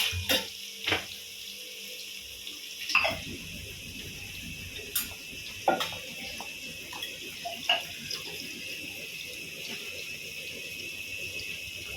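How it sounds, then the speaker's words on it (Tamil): Water poured from a tap into a measuring vessel in a home kitchen for cooking tomato rice; a steady trickling splash runs throughout, punctuated by several sharp clinks and knocks of the vessel, with no talk. "மூணு காப்படி அரிசி மூணு காப்படி தண்ணி எடுக்கிறேன் அளவாக"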